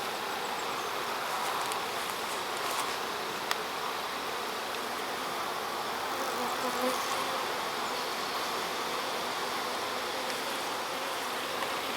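Honeybees from a young hive buzz steadily around an open frame during a hive inspection, a dense, continuous drone from many insects close by, with no talking.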